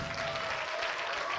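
Applause from a school audience for a sixth-grade dance group at a middle school dance celebration, a steady wash of clapping held at an even level for the short stretch with no pauses.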